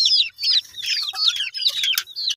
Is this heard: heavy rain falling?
no